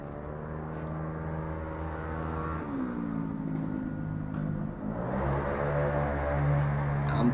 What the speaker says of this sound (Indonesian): tuh motor kenceng amat suaranya